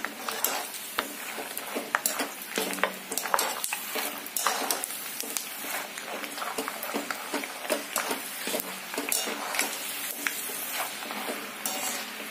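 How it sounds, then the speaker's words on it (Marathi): Roasted dal fries in oil until crisp for makapohe chiwada, a constant crackling sizzle overlaid with rapid stirring and scraping of a spoon against the pan, close and busy throughout. "क्रिस्पी होईपर्यंत याला पण आपण असंच तळून घेणार आहे."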